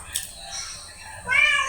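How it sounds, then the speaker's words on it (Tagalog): A household cat gives a couple of meows, a faint short cry and then a louder, rising, drawn-out meow near the end, fairly close in a kitchen setting. "At yung pusa namin napapasigaw sa sarap."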